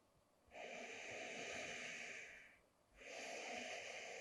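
Steady breathing during a Pilates arm-toning exercise, two long airy breaths, a sustained inhale or exhale followed by a brief pause and another, close and fairly quiet with no talking.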